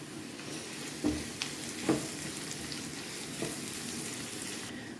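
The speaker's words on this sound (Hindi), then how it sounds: "इसको भी हम 1 से 2 मिनट तक हम इसको फ्राई करेंगे आलूओं के साथ ही" Chopped onion frying alongside potatoes in a pan for a Spanish omelette, a steady soft sizzle with a couple of brief stirring clinks, close and moderately quiet, no voices.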